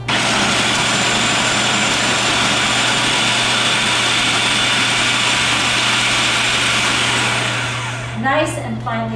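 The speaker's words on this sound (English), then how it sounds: "We're about to turn on our food processor on high." Food processor on high chopping onions for potato latkes, a loud, steady whirring motor drone that stops near the end, followed by brief talk.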